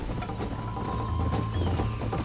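Rhythmic hoofbeats of a horse at speed in Red Dead Redemption, steady and moderately loud, mixed with a faint mechanical hum.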